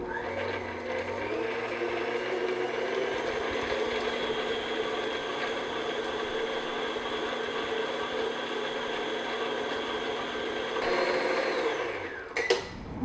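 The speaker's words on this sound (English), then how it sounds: "we're going to beat this until it's really light and fluffy on medium-high speed" An electric mixer beats sugar on medium-high speed, a continuous loud whirring drone with a steady motor pitch that holds for several seconds, then winds down and stops near the end with a brief clatter.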